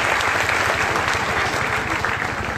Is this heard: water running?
no